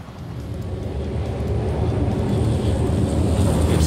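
Low rumbling engine and rotor drone from helicopters on an aircraft carrier deck in the game Carrier Deck, a steady broadband roar that builds slightly in loudness and holds without pause, with no voices.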